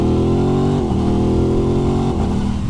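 A 2021 Aprilia RS660 motorcycle engine running loud and close, a steady throbbing idle with two brief dips and rises in revs.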